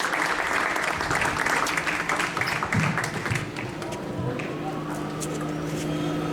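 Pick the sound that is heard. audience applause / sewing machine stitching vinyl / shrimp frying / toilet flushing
audience applause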